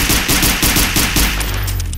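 Rapid bursts of gunfire in a ghost hunting video game, a loud close rattle of repeated shots that fades into a low rumble near the end, with no voices.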